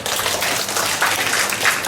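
Audience applause after a speech at a school declamation competition, a dense, loud wash of many hands clapping steadily throughout with no talk over it.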